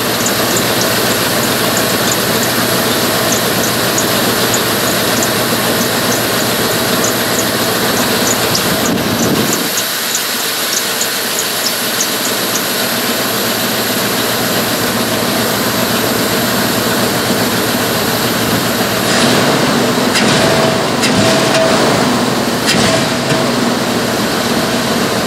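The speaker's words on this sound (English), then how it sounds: "Sounds like I got an exhaust leak or a vacuum leak." A Dodge 318 Magnum V8 runs at a steady idle with a suspected exhaust or vacuum leak. The loud, continuous mechanical roar carries a hissing, ticking edge and briefly dips midway before settling back to an even drone.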